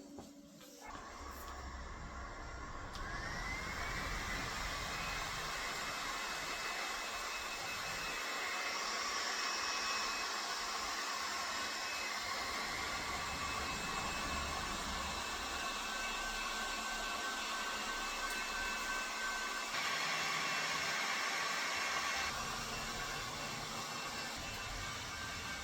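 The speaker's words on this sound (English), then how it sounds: "The heat gun worked out really well." A heat gun blows a steady, loud whooshing hiss with a faint high whine while drying a freshly prepped AMC 258 engine block, running continuously with slight shifts in tone as it moves.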